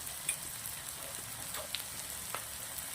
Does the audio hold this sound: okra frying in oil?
yes